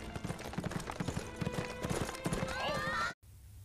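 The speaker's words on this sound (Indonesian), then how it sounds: "Setelah melakukan pertunjukan berkuda" Horses trot during a riding show in a film, their hooves clip-clopping in a quick, steady rhythm. A whinny rises near the end before the sound cuts off abruptly.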